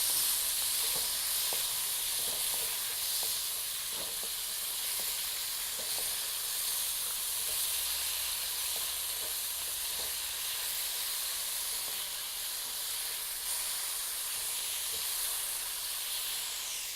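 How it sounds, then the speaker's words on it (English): Steak searing in a hot pan gives a steady broadband sizzle and hiss with scattered small crackles and pops, fairly close and unbroken, with no talking. "Steak in. See how quickly that's browning up already?"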